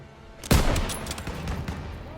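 Suppressive gunfire in Call of Duty WW2 breaks out with a loud, sharp blast, then continues as rapid bursts of shots and rumbling reports in a busy battle soundscape.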